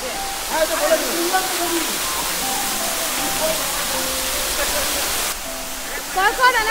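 Wah Caba Falls near Cherrapunjee roars as a steady, loud broadband rush of falling water that fills the whole clip, while people talk and exclaim over it.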